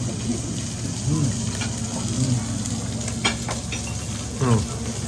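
Beef sizzles steadily while grilling on a magnolia leaf over a hot surface, a close crackling hiss with occasional soft voices murmuring in the background.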